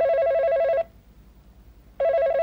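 A telephone rings in a Hong Kong action movie set in Bangkok: two loud, steady electronic ring bursts with a pause between them, nearby and clear, with no talk over them.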